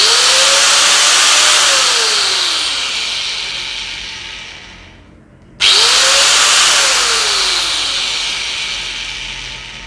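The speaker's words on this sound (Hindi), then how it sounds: "अब हम देख लेते हैं इस मशीन की आवाज़ कैसी है।" A 4-inch heavy-duty angle grinder with a long handle whines loud and close, spins down over several seconds to near silence, then snaps back to full speed and keeps running, with no talking.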